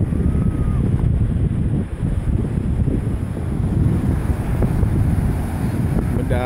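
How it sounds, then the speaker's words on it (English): Steady wind buffets the microphone in a continuous low rumble, with faint surf in the background and no one speaking. "It's a fairly windy day."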